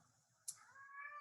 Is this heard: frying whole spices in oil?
no